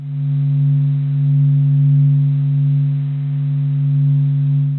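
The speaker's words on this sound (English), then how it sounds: "we listen to several different sounds made by the sun, recreated through clever science" A sonification of the sun: a steady, resonant low drone with faint overtones, swelling and fading gently in loudness, continuous with no voices.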